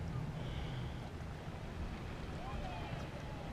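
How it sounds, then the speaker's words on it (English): Constant wind rushes and buffets the microphone throughout at Buckeye Lake on a hot day, with a low rumble of open water beneath. "Of course it's windy."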